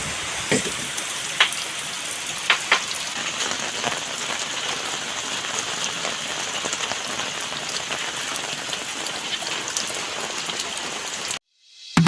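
Heavy typhoon rain pours down steadily on a hard surface on Burias Island, a dense, hissing patter with occasional louder drops, stopping abruptly at the end.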